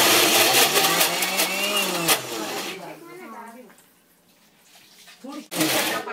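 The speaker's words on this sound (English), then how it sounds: "Now we're gonna grind the moong dal into a fine paste." A mixer grinder whirs loudly as it grinds soaked moong dal into a paste, its motor pitch rising and falling, then briefly settling before it roars back up. A voice speaks over it.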